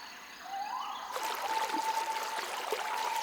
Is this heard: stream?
yes